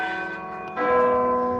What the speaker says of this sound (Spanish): nos recibieron con campanas.